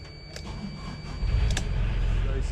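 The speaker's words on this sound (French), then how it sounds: "Pour le lever du mouillage, on va quand même mettre un moteur." Auxiliary engine on a sailboat cranking and catching, a brief electric starter whir followed by a steady low engine rumble that grows louder and settles into an even idle, close by.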